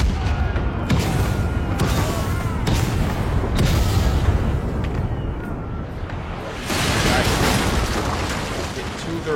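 Ship cannons in a naval video game fire in a dense run of heavy booms and blasts that keep rolling and overlapping through the whole stretch, loud and close.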